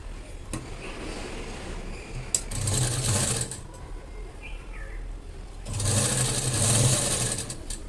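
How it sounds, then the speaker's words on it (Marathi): A sewing machine stitching a blouse runs in two loud, close bursts of rapid whirring, separated by a quieter pause with clicks of handling and pigeons cooing faintly in the background. "त्यामुळे तुम्हाला दाखवते कशी शिलाई करायची ते."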